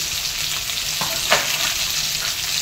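Potato pieces frying in oil with salt and turmeric for a small-fish and fig curry, a loud close sizzle with a brief stirring scrape partway through and no voices.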